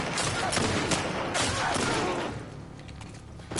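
Rapid gunfire from The Last of Us Part II, a dense stream of loud shots that thins out near the end, with a voice faintly mixed in.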